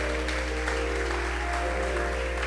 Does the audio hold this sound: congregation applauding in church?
yes